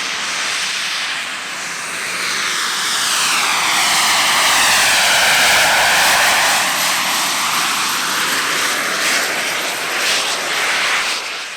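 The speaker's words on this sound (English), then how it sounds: "It's Gravity Industries' jetpack designed by Richard Browning." A Gravity Industries jetpack with five small jet turbines roars loudly and steadily at an airshow, its hissing turbine whine swelling and sweeping in pitch as it passes close by, with no voices.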